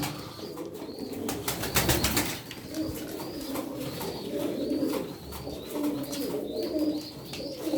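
Pigeons coo softly and flap their wings in a loft, with a burst of wing beats early on, then repeated low cooing calls and light rustling throughout.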